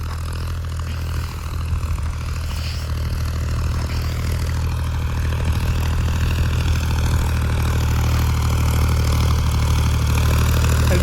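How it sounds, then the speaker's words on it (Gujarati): A farm tractor's engine runs steadily after ridging a field, a loud continuous low drone that holds unchanged throughout. "અત્યારે ટ્રેક્ટર બીજું પાળું કરીને હાલો આવે છે."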